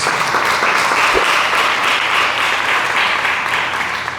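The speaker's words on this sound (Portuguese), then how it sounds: "Vamos aplaudir a santa palavra de Deus" Church congregation applauding after a scripture reading, a loud, steady, dense crowd clapping that holds at an even level for the whole stretch with no voices on top.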